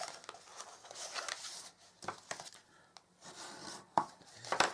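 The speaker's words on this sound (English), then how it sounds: "Now for the lid, just going to burnish the score lines." A tool burnishes score lines on a white card gift box lid: close, continuous scraping and rubbing strokes with a few sharper taps near the end, and no voices.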